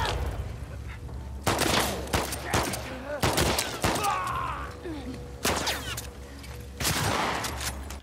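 Bursts of gunfire in The Last of Us Part 2, several sharp loud volleys spaced a second or two apart with a low rumble underneath and faint scattered sounds between shots.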